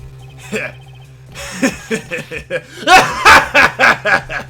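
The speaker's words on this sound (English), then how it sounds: "Don't get hiccups, dude" A run of hiccup-like bursts from a character in the game Ace Attorney Investigations, repeated in quick uneven succession and growing louder toward the end, with a low musical drone underneath.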